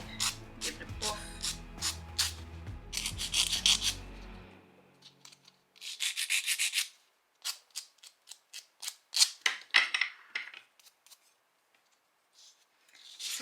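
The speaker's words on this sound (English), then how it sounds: "I'm just going to take the righty edges off of that shape, give it a buff." A buffer scrapes the edges of a press-on nail tip in quick, raspy strokes, close and fairly loud, coming in short bursts separated by pauses, with a low hum early on.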